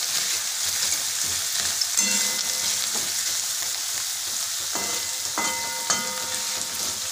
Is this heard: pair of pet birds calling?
no